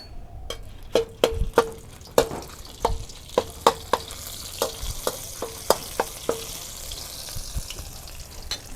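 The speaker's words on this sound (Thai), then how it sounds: "มีครบมันทุกอย่างไปลงไปเลยใส่ลงไปผัดเลย" Shrimp paste and seasonings stir-fried in oil, with a spatula clacking against the pan in a steady series of sharp scrapes over a low sizzle, close and fairly loud.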